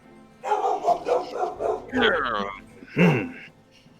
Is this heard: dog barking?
yes